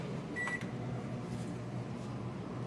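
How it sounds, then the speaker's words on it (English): A microwave oven runs with a steady low hum and fan drone, with a short beep-like tone near the start. "A little bit of water, and in the microwave for 2 minutes."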